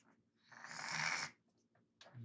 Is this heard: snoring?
yes